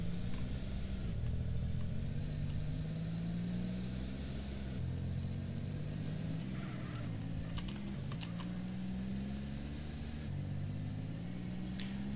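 A car engine in GTA San Andreas drones continuously, a mid-pitched hum whose tone rises and falls as it accelerates, mixed with steady keyboard typing clicks, with no speech.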